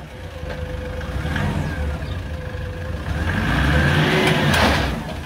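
A used pickup truck's engine revs in 4x4 while its front tire slips, rising to a loud, strained roar near the end over a steady mid-pitched drone.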